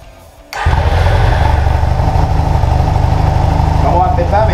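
A Honda CB 450 DX motorcycle engine fires up after a quiet moment and settles into a loud, close, steady idle with a throbbing low rumble.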